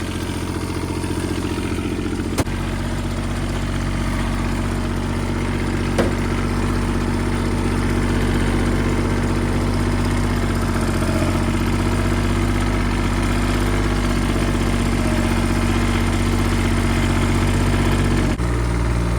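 A Kubota diesel engine running on homemade biodiesel idles steadily and loudly up close, its low, even rumble carrying a light clatter throughout with a brief knock near the end.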